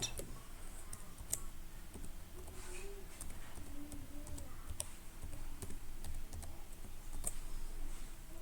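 Someone types a password on a computer keyboard to log into a WordPress site: soft, rapid key clicks in an uneven rhythm, a few sharper taps, over a steady low room hum.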